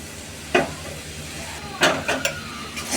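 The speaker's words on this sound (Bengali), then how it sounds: "এবার আমার মশলাটা কষে নিয়ে মাছগুলো দিয়ে দিব কষার জন্য" Spice paste with onions frying in a pan, a steady low sizzle broken by a few sharp scraping stirs of a spoon against the pan, close and fairly loud with no talking.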